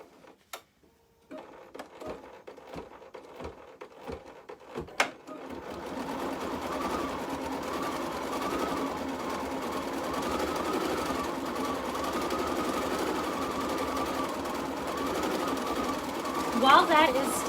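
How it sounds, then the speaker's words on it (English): An embroidery machine stitches out a design with a steady, continuous mechanical whir after a few sharp clicks and taps at the start, running loud and close and alone. "We're ready to go ahead and stitch that one out."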